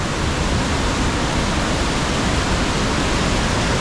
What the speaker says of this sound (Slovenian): Drugi slap, Bakva.